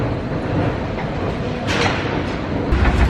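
A Paris metro train rumbles along the rails in a steady, loud roar heard from inside the car, with faint rattles and clicks rising briefly over the continuous running noise.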